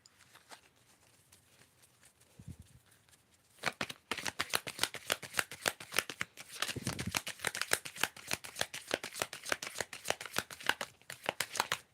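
New deck of oracle cards being shuffled close up, a quiet rustle at first, then a long run of rapid crisp riffling flicks.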